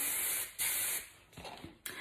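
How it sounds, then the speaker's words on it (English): Paul Mitchell Extra Body Firm Finishing hairspray is sprayed over a Christmas tree in a few close, loud hissing bursts, with short pauses and faint rustling between them. "I'm gonna spray it really good all over my tree."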